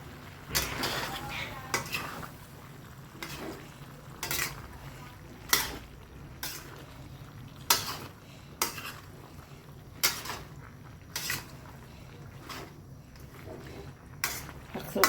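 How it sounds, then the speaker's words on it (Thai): A metal utensil scrapes and clanks against a full pan of mixed vegetables, bell pepper and pork being stir-fried, in a steady rhythm, with a soft sizzle underneath and occasional voices. "ผัดเต็มกระทะเลยอ่ะ"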